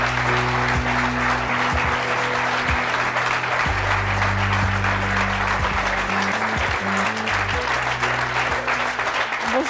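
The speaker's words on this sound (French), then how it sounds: "Je vous demande de les applaudir très chaleureusement." A large television studio audience applauds continuously and loudly, a dense clapping roar with a low hum underneath, sustained throughout without a break.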